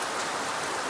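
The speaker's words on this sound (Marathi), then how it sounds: "बघू शकता अगदी मुसळधार पाऊस पडतो आहे" Heavy monsoon rain pours steadily in Konkan, a dense, even hiss with no breaks.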